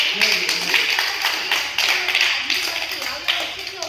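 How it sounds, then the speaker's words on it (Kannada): An audience applauds a Kannada movement activist with a scattered, uneven burst of hand claps at close range, while voices talk over it. "ಖಂಡಿತ ಚಪ್ಪಾಳೆ ಹೊಡಿಬೇಕು."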